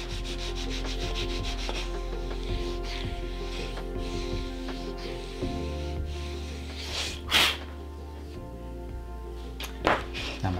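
The curved edge of a handmade leather slim wallet is sanded with medium-grit abrasive, a close, continuous rasping rub in steady strokes, with a few louder scuffs near the end.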